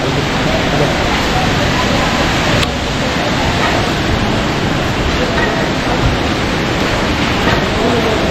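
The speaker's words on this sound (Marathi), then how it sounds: "पाणी वाहतंय खालती" Water rushes steadily below a crowded pilgrim path near Kedarnath temple, Uttarakhand, a loud continuous roar with no pause.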